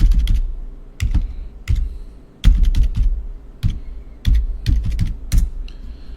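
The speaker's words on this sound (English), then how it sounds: "All I did was type in appliances." Fast, irregular bursts of computer keyboard typing, clicky keystrokes close by in clustered runs with short pauses between, alone without talk.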